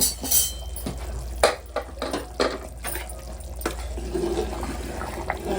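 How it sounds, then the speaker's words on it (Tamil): Mutton kurma curry bubbling in a pot at home, with a near, wet simmering gurgle and a few sharp clinks of a lid or utensil against the pot. "சூப்பா எப்படி கொதிச்சுட்டு இருக்கு பாருங்க"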